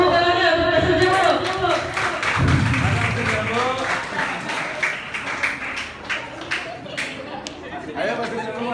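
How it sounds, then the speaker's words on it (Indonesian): Applause for a student group from Pasir Jambu at a community-service results presentation, scattered claps and taps mixed with crowd chatter and voices talking throughout. "Tepuk tangannya untuk Pasir Jambu."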